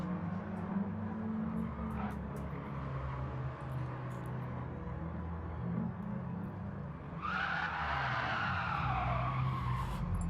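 An RC race car skids with the handbrake on at Brands Hatch, and its tires let out a rising squeal late on over a steady drone of engine and track noise. The sound is moderately loud and at mid distance.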